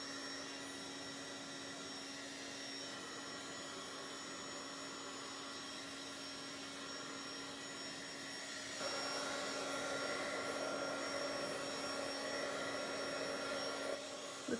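A hair dryer blows steadily on a Bible journal page to dry it, a continuous close whirring drone with a hum that grows louder and fuller partway through and holds to the end.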